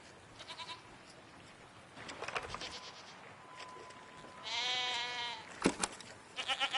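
Goat-like creatures bleat in the video game Season, several wavering calls at moderate distance with a louder bleat near the middle, set against soft ambient background sounds and no talk.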